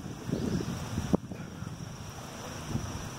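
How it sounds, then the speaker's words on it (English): Steady wind buffets the microphone with a low rumbling roar, joined by one brief thump partway through. "It's a little windy"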